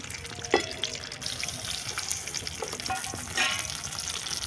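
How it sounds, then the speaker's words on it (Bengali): Chopped tomato goes into a hot pan of oil tempered with bay leaf and sizzles steadily, with light stirring scrapes and a few small pops, close and unaccompanied by talk. "কেটে রাখা টমেটোটা দিয়ে দেবো।"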